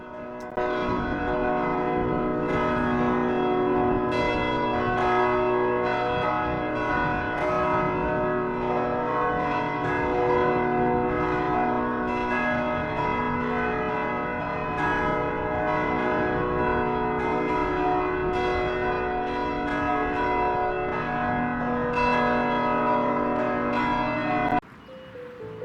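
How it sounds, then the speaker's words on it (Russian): Church bells peal continuously from the parish church of Our Lady of Mount Carmel in Malta, a rich, loud, layered chime of overlapping strikes ringing steadily for about twenty-five seconds without talk. "послушать перезвон, изгоняющий из организма все нечистое, в исполнении приходской церкви Богоматери на горе Кармель"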